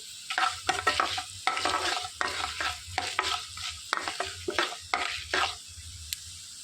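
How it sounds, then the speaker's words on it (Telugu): Cumin seeds and urad dal frying in a pan while being stirred, heard as rhythmic scraping strokes over a steady sizzle, loud and close, with no voices. "ఒక టేబుల్ స్పూన్ జీలకర్ర ఒక టేబుల్ స్పూన్ మినప్పప్పు వేసి కలిపేసుకోవాలి"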